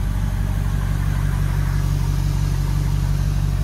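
Mercury Mag 350 engines on a Donzi 28ZXO boat idling at low RPM, a deep steady throbbing rumble, close and continuous with no talk.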